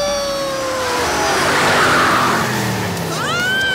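Cartoon monster truck Monty roaring and revving as it jumps over a row of cars, a loud engine surge with tire screech and squealing whistle-like effects, steady and close.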